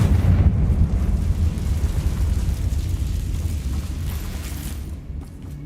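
A Confringo blasting spell explodes in Hogwarts Legacy, a deep rumbling blast that roars steadily for several seconds before fading near the end.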